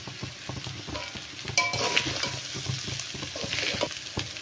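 Chicken egg chowmein is stirred and tossed in a frying pan, a steady sizzle under repeated scraping and clinking of a utensil against the pan, close and moderately loud, with no talking.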